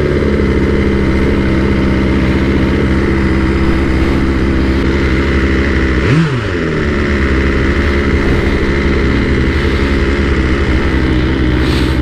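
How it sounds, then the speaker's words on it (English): A 2022 BMW S1000R motorcycle engine running steadily at idle with a strong, continuous drone, a brief rev swell around the middle, then settling back to a loud even idle with no talk. "Let's power it on. Okay, let's start the bike."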